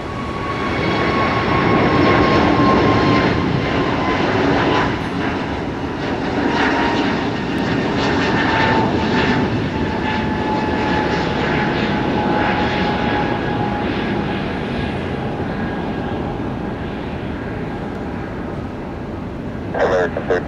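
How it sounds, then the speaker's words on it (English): A fixed-wing airplane on approach to land on runway 1 left at Tampa International Airport, its steady engine roar loud and continuous throughout, with a tonal whine, while radio voices talk over it. "Solo 2329, runway 1 left, cleared to land."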